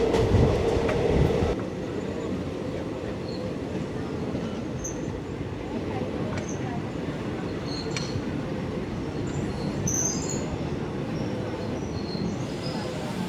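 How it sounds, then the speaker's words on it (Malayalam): A MEMU electric passenger train runs on rails in Kerala, heard from inside a second-class coach as a steady rolling rumble and rattle, louder for the first second and a half, then a constant hum with faint high squeaks. "മെമു എന്ത് പെട്ടെന്നാണ് സ്പീഡ് പിടിക്കുന്നതും ഈവൻ എന്ത് പതുക്കെയാണ് അത് ചെയ്യുന്നതെന്നുള്ളത് നമുക്ക് ഫീൽ ചെയ്യാൻ പറ്റും"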